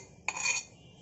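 Mushroom biryani mixture being stirred in a pot, a short scraping, clinking burst of utensil against metal lasting about a third of a second, fairly close, with no talk.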